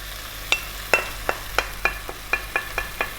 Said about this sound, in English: we're going to go stirring away here for about 4 or 5 minutes